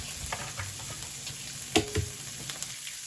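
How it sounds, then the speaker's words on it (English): Egg cracked into chorizo frying in a pan, with a steady close sizzle, a sharp crack and splat near the middle, and a few stirring clinks. "So let me just get in the egg now."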